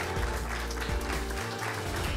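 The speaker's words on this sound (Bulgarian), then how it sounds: "Аплодисменти още веднъж за музикантите тази вечер" Concert audience applauding the band's musicians at a televised Bulgarian music show, a steady crowd clapping mixed with low, booming background sound and some murmur, fairly loud throughout.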